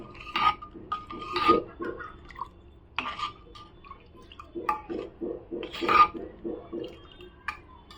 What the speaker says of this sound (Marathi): छान असं आहे ना ढवळत राहायचं जेणेकरून लागू नये म्हणून।